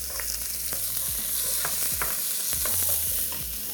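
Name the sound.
onion and garlic sautéing in oil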